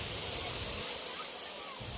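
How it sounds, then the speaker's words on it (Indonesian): Water pours steadily into a pool below a waterfall where children are playing. The rushing sound is loud and continuous, with low splashing underneath. "Selanjutnya anak-anak menuju ke kolam air terjun."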